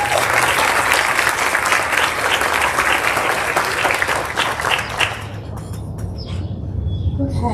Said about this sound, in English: So let's give Mrs. Hanlon a round of applause.